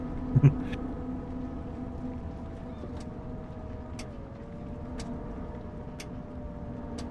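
A soft, steady electric bus motor whine in the video game Bus Bound hums continuously at low volume, rising slightly in pitch, with faint periodic clicks over a low background rumble.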